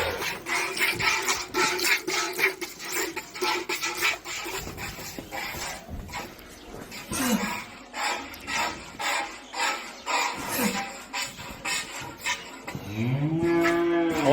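Cows moo on a farm while being fed and milked, several deep drawn-out calls, one loud and close near the end, mixed with nearby handling noises and brief shuffling.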